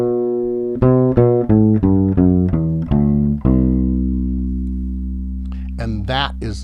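A bass plays a C Lydian modal scale, one plucked note after another in an even ascending run, ending on a long sustained low note, with a voice starting to talk near the end.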